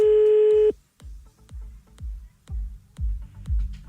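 Steady telephone line tone after a dropped call, loud for under a second and then cut, followed by a run of rhythmic low thumps about every half second.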